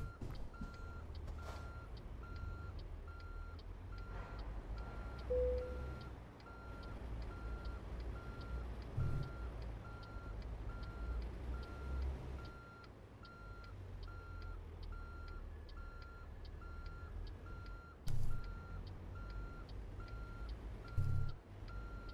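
A truck in American Truck Simulator backs up with its reversing alarm beeping in a steady evenly spaced pattern over a low idling engine rumble, fairly faint, with a couple of brief louder knocks and no talk.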